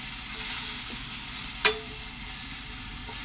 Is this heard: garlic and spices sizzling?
yes